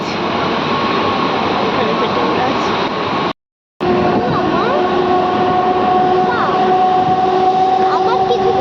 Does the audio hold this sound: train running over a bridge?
yes